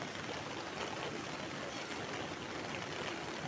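Rising floodwater rushes steadily past, a dense, continuous broadband roar of flowing water that stays loud and even throughout, with no voices.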